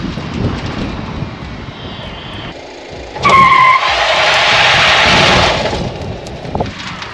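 A Ford F-100 pickup brakes hard as a wheel locks up, a sudden loud tire skid lasting a couple of seconds over steady road and engine noise.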